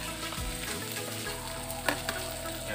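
Chopped onions hit a hot pan and fry with a steady, close sizzle, with a brief clatter of stirring partway through and no voices over the cooking.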